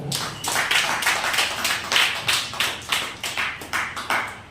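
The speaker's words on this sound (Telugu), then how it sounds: "గట్టిగా చప్పట్లు కొడతారా?" A church congregation at a Sunday service claps loudly in a steady, even rhythm of sharp, close claps about three per second, with no talking.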